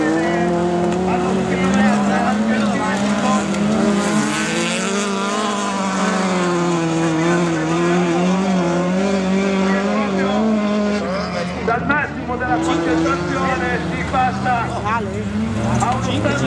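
Autocross race cars in a class A semifinal at Romano Canavese rev and drive past loudly with wavering engine tones and occasional tire noise, while a commentator talks over them throughout.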